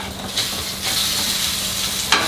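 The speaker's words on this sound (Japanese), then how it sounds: "こうやって切った断面を下に向けて フライパンで炒める" Cut tomatoes, cut side down, sizzling in a frying pan for a fresh tomato sauce to go with white fish meunière, a steady close crackling hiss with a few brief louder spatters, no talking.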